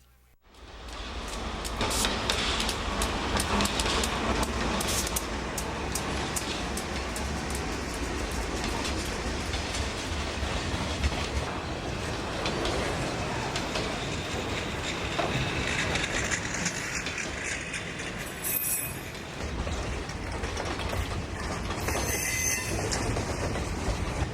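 A Conrail freight train, ML 420, rolls past close by at the start of a single-track section, a loud continuous rumble of wheels and cars with rattling clatter and squealing flange noise throughout.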